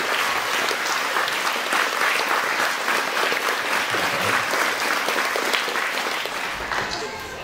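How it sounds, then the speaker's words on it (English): An audience applauds actors at a school presentation day, dense steady clapping from many hands filling the room at constant loudness, fading slightly at the end. "Could you give our actors a big round of applause,"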